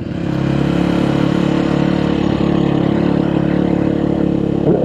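A French-made Sherco SEF 450 dual sport motorcycle engine runs steadily at a close, even idle, with a constant mechanical chug and no change in pace throughout.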